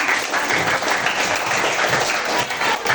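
Classroom applause from students, a steady wash of clapping hands that holds at an even level for about three seconds, fairly close and with no voices over it.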